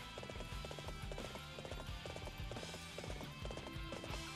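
Horse hooves clip-clopping at a steady galloping rhythm in the video game Dynasty Warriors 7, loud and close, with game music and effects layered underneath.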